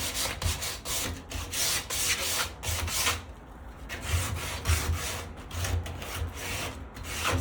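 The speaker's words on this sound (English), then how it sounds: "just sand it a little bit so you can remove some of the varnish" Sandpaper rubbing steadily over a varnished wooden front door being resurfaced for new stain, a loud, close, continuous scraping in rhythmic back-and-forth strokes with a brief pause midway.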